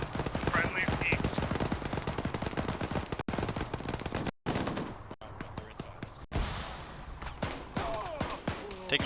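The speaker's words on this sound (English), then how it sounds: "Taking fire from the east." Rapid bursts of rifle and machine-gun fire crackle continuously during a military field training exercise, loud and close with brief pauses between volleys, while voices shout over the shooting.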